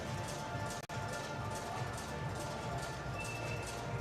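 Horses' hooves clip-clop in a quick, bouncing trot at an indoor carriage driving competition at London ExCel, heard steadily through arena ambience at moderate distance.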